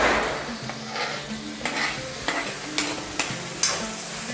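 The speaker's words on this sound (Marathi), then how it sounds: "बटाट्याला एकदम छान एकदम मिक्स करून घ्या पूर्ण" Potato being mixed into sabudana khichdi with curry leaves and coriander in a pan, a gentle frying sizzle under repeated spoon scrapes and taps against the pan at a slow, uneven rhythm, close up.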